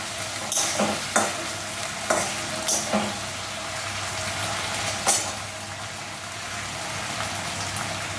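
Vegetables and green chillies stir-fry in a pan, giving a steady sizzle and crackle broken by several sharp scraping strokes of the spatula, close and clear with no talking.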